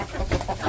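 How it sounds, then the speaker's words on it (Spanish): An angry rooster in a henhouse gives a brief, harsh cluck in a short burst, close and fairly loud, with a faint voice in the background. "ahorita está enojado él porque le metimos un gallo a su gallinero"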